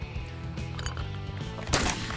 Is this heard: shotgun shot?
yes